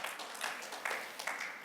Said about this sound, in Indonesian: Dan bangga kepada Tuhan dengan berikan tepuk tangan.